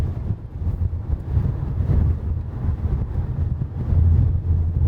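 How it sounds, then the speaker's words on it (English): Strong wind gusts blow dust across open ground, battering the microphone with loud, rumbling surges that rise and fall, with no talk. "And now we can't see because of too much dust and wind."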